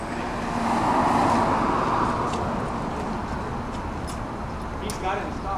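A 1000 HP Corvette hot rod drives down a street, its engine rumble swelling and then holding steady beneath surrounding traffic noise, while a voice talks over it.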